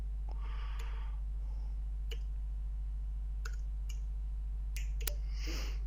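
A few sharp, faint key clicks on a computer keyboard while a formula is typed into a Calc spreadsheet, over a steady low hum.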